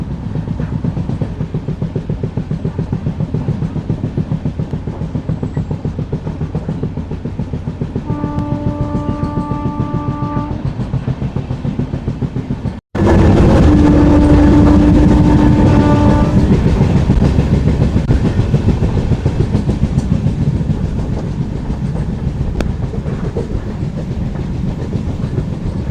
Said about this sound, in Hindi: बहुत ही सुंदर पहाड़ी रास्ते से गुजरती हुई हमारी ट्रेन,